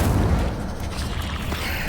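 In the video game Hogwarts Legacy, an Incendio spell blast erupts as a loud, dense, roaring burst that fills the whole two seconds, booming and fiery with no pause and no speech.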